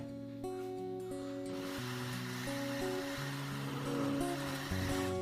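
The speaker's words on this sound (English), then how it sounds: "So I will be blending it with the blender. I added a little water. And I will cover and blend till smooth." A kitchen blender whirs steadily as it purees cocoyam with a little water into a smooth thickener for Nigerian oha soup, with a continuous rushing drone over background music.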